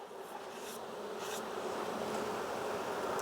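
A dense, steady hum of many honeybees buzzing nearby during a hive inspection, with individual insects droning past now and then.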